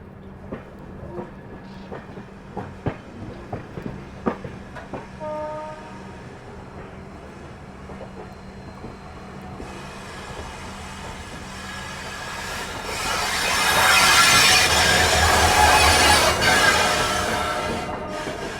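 The Delhi Fazilka Intercity Express, hauled by a diesel locomotive, approaches on an outer line. Scattered rail clanks come first, then the steady roar and rattle of the passing train builds loud and close before easing slightly.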